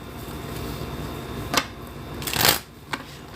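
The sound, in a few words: riffle shuffling a deck of new tarot cards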